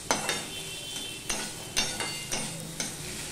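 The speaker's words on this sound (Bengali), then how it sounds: "তাহলে আমি মিনিট খানিক আমি ভেজে নেব বা কষিয়ে নেব" Tomato frying in a pan while being stirred, a low sizzle punctuated by a regular series of spoon scrapes and clinks, roughly every half second, close by.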